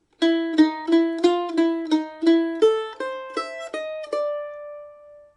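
A plucked mandolin plays a slow chromatic run from the Brazilian choro tune "Não me Toques", about a dozen evenly spaced picks climbing in pitch, the last note ringing out alone.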